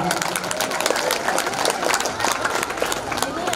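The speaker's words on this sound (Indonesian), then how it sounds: "Tepuk tangan untuk Pak Haji Somad." Steady applause from a high school audience in Palembang, Indonesia, dense clapping filling the space with a murmur of voices mixed in.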